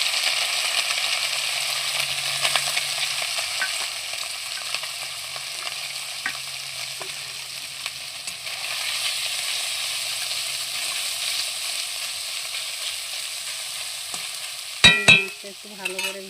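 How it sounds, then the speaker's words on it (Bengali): Small chuno fish fry in hot oil with a continuous close sizzle and crackle, steady throughout, ending with a few sharp utensil knocks and no talk. "তেল গরম হয়ে গেছে, এবারে চুনো মাছটাকে দিয়ে দিলাম।"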